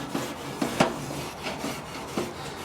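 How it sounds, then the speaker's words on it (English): Wire brush scraped across charcoal grill grates, close and moderately loud, with a steady series of rasping strokes roughly every half second and no talk. "I'm just gonna go ahead and give these grates another brush"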